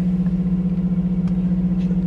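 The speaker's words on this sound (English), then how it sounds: "The car is on." Parked car with its engine just started and idling, a low steady hum with a faint rhythmic pulse, close and unchanging, with no talk over it.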